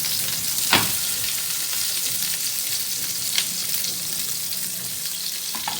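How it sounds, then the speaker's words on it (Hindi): Kebab patty frying in a pan over a low flame, a steady bright sizzle close by with a couple of brief scraping or stirring touches. "कम आंच फ्लेम में आपने इसको फ्राई करना है"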